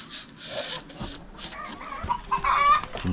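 Backyard chickens and a rooster cluck and call close by while wheat feed is handled, a busy layer of clucks over a rasping, rubbing noise, with no talking.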